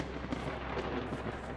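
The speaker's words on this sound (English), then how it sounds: "This time for a thunderstorm." Low rolling thunder from a thunderstorm in the video game Vintage Story rumbles steadily at a moderate distance, with a few soft swells and no voices.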